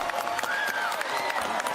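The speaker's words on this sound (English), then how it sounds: "People clap for him." A crowd claps and cheers for a college choice announcement, picking Florida, a continuous wash of applause with scattered louder claps and a faint high whistle-like tone.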